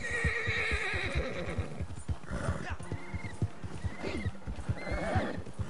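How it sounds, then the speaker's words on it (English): Horse in the video game Red Dead Redemption 2 whinnies repeatedly over a steady clip-clop of hooves, the neighs loud and close, with a voice speaking briefly. "Chill, horse."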